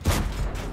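A single heavy tank cannon blast from World of Tanks gameplay, a loud close boom with a short rumbling tail.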